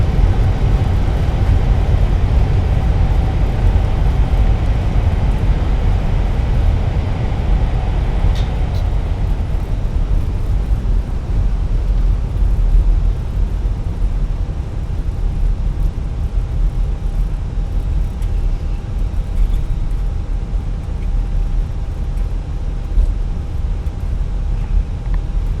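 Jet engines of a Fenix A320 in Microsoft Flight Simulator run in idle reverse during the landing rollout at Oakland, making a loud, steady broadband roar that holds unchanged throughout, with no talking.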